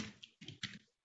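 Three quick soft clatters of computer keys, faint and close, come from someone typing into a spreadsheet.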